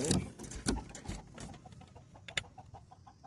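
A hen recovered from white diarrhea disease clucks in short, uneven bursts close by, with a few sharper squawks and light background noise.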